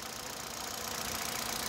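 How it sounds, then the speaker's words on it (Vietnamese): A 2012 Hyundai Accent with a 1.4 engine and manual gearbox idles smoothly, giving a quiet, even hum with a light steady patter and no voices. "Đó, máy nổ cực êm nhá."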